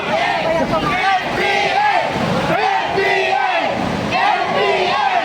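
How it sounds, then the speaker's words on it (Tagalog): A protest crowd at the EDSA Shrine shouts and chants at an Akbayan group, loud rhythmic waves of massed voices rising and falling close by, with individual yells standing out. "Sigawan na ng NPA yung mga Akbayan."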